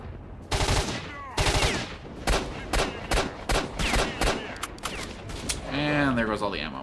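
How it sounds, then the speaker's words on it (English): A pistol fires in S.T.A.L.K.E.R.: Shadow of Chornobyl, with loud, sharp shots in quick clusters and short rapid strings. A voice briefly intrudes near the end. "And there goes all the ammo on my fancy new pistol"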